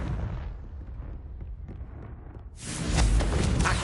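A Confringo blasting spell bursts in the Hogwarts Legacy video game, a loud broadband explosion erupting after a stretch of low rumbling ambience and holding as a dense roar to the end.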